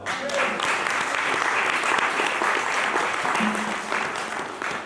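Steady applause from a church congregation during a sermon fills the whole stretch, dense clapping at an even level with a brief voice or cry poking through.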